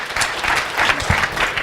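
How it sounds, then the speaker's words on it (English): An audience gives a round of applause at a presentation, steady dense clapping filling the short moment at close range. "Give him a round of applause and the next one comes up."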